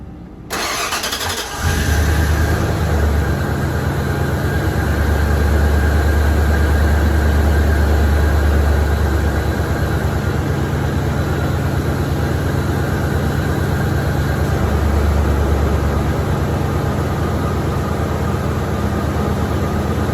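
A Ford 5.8L V8 cranks and fires after a cooling system flush and radiator and thermostat replacement, then settles into a loud, steady, close idle with a low droning rumble, with no voices.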